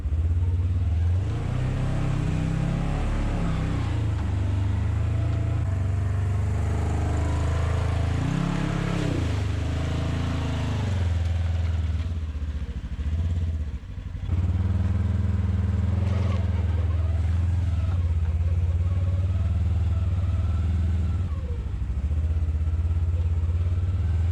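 A 2022 Polaris General Premium side-by-side drives through mud, its engine droning steadily and loudly up close for the whole stretch, with some clatter and rev changes and a brief dip in the middle.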